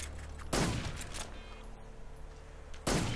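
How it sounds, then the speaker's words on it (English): Ocelot's ricocheting gunshots in Metal Gear Solid 3, two loud sharp bursts about two seconds apart, each ringing out with a metallic whine, separated by quieter game ambience. "he's ricocheting his bullets now"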